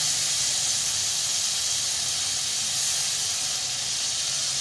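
Potatoes for a spicy masala aloo dish hit a hot pan and give off a loud, steady hiss of sizzling that lasts throughout, with no voices.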